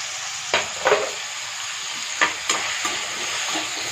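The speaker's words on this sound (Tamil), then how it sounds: "சௌ சௌ வந்து பச்சை வாசனை போகிற வரைக்கும் நல்லா வதக்கணும்." Chopped chow chow (chayote) sautéing in a pan gives a constant close hiss of frying, with several distinct spatula scrapes spread across it and no speech.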